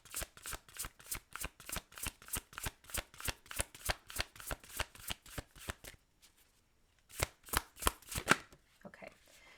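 A deck of tarot cards shuffled in quick, rhythmic riffles, close and clear, with a brief pause before a final few riffles.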